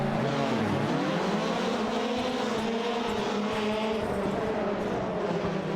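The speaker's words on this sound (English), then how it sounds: "engines revving, lights illuminate." Rallycross race cars in the iRacing sim at Iowa, engines revving loudly together on the grid at the race start, a steady sustained multi-engine roar with rising pitch sweeps and no talk.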